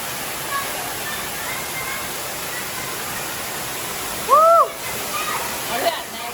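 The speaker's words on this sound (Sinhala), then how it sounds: "මේ වතුර පාර." A water stream pours near a rock cave in the jungle as a constant broadband rush, with a brief high whistle-like sound partway through.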